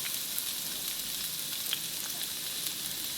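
Finely chopped medium onions sizzle steadily in a few tablespoons of hot oil in a pan, a soft continuous crackle with occasional pops, heard alone without talk.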